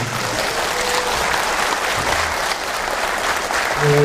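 Audience applause at a history academy lecture, greeting an elderly lecturer after a long talk; dense, steady clapping from a hall crowd, loud and sustained throughout with a faint voice near the end.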